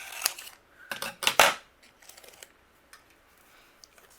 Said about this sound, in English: I'm just going to go ahead and trim this.